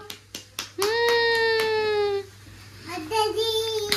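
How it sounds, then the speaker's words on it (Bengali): A few quick hand claps at the start, then a child's drawn-out voice and more claps mixed with vocal sounds. "হাততালি দাও, হাততালি দাও"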